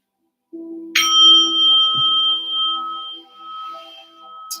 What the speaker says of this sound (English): I will start with the meditation bell, which indicates it's time to be present and time to let go.